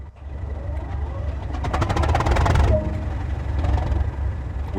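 Class 37 diesel locomotive in Train Sim World cranking and firing up, a rising rattly engine roar that builds over a couple of seconds and then settles into a steady rumbling idle.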